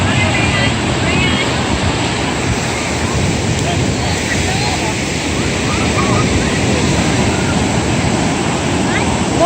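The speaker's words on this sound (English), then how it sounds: "Волны большие, Nick." Ocean waves surge and wash onto a beach in a steady, loud roar of surf with wind buffeting the microphone, while people talk nearby.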